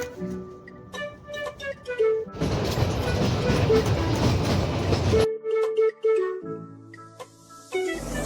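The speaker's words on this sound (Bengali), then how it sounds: "আমাদের টয় ট্রেন একদম রাইট টাইমে এসে পৌঁছেছে।" Shimla toy train arriving at Shimla station, a loud, dense rumble of rolling cars passing close for a few seconds, set between stretches of tonal horn-like sound.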